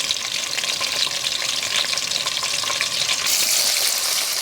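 Oil sizzling and frying in a pan, ready for green onions, as a steady, loud, dense hiss runs throughout and brightens further near the end, with no talking.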